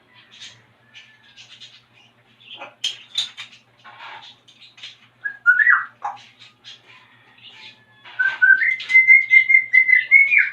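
An African grey parrot whistles and chirps in scattered bursts, ending in a sustained series of clear, repeated whistled notes, close and alone.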